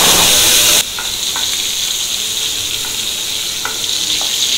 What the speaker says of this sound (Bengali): ডিমের কোরমা বানানোর জন্য যে ডিমটা সেটাকে একটু একটু ভেজে নিলাম নাকি?